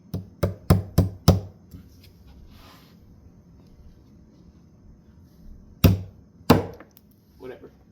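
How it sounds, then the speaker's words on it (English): A hammer drives screws into a wooden couch frame: a quick run of five sharp, close knocks, a pause, then two more heavy strikes and a softer tap. "Hammering screws is honestly a good method."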